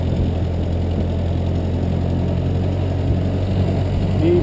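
A 1922 Ford Model T engine runs steadily in low gear while cruising, a continuous loud low rumble with an even mechanical throb and no pauses.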